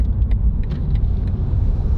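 Steady low rumble of a car creeping through heavy New Jersey traffic, heard from inside the cabin, with faint ticking clicks over the engine and road drone.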